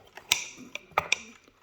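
Alarm hand of an antique Junghans mantel alarm clock being set, heard as a few small, close, sharp ratcheting clicks and mechanical ticks in quick succession.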